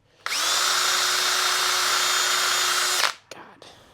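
An overheating power drill whirs steadily at close range for about three seconds, then winds down, followed by a couple of brief clicks and rustles.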